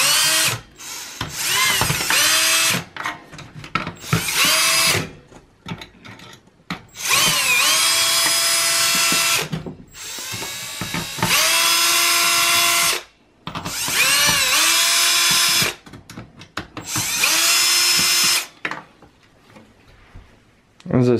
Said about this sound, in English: I'm just gonna use a drill instead.